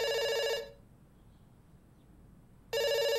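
Telephone ringing in the game Dr. Langeskov, The Tiger, and The Terribly Cursed Emerald: two bursts of a loud, bright electronic ring separated by about two seconds of silence, with no voices.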